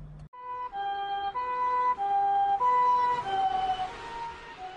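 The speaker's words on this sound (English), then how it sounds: "when you hear that sound of an ambulance" An ambulance siren wails nearby, its two tones alternating steadily and loudly, with no talking.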